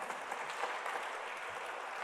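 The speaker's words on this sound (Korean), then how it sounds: "이때 박수 한번 쳐줘야 되는 거 아닌가요?" Congregation applauding in a large prayer-hall sanctuary during a church sermon, a steady broadband wash of clapping that holds evenly for about two seconds at a moderate distance.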